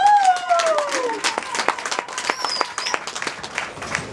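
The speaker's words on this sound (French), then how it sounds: "Commencez à applaudir pour confirmer ça." Wedding guests break into scattered, fairly close applause that continues under a speaking voice and some whistle-like tones.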